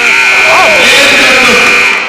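A loud, sustained electronic buzzer at a high school basketball game blares over a roaring arena crowd, holding steady for about two seconds.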